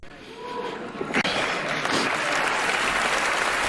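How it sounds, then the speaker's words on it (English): Audience applause swelling into loud, continuous clapping from a large crowd at an awards ceremony, building after a brief moment of quieter sound and holding steady to the end. "Why are we clapping?"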